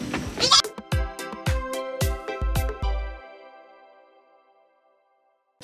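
A healthy goat on a Philippine farm gives a run of loud, close bleats, several quick wavering calls in a row, then falls silent.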